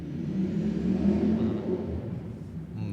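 A motorcycle engine revs nearby as a loud, rising and falling rumble that swells for about two seconds and then eases off, with no talk over it.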